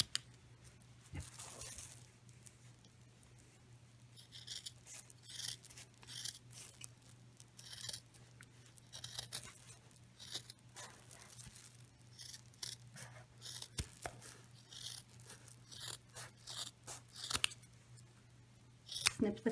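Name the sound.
scissors snipping corners of a sewn pot holder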